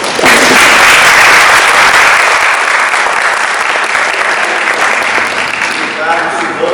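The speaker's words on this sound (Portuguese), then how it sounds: "Vamos, palmas?" A room full of people claps together in sustained, loud applause at a company gathering honoring its directors, the clapping dense and steady before slowly thinning out.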